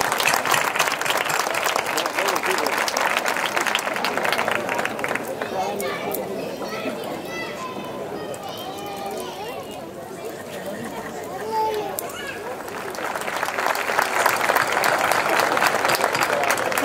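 Applause rises from a crowd at an outdoor folklore night in Villarrubia de los Ojos, loud at first, easing into murmuring chatter and footsteps, then swelling again into strong clapping.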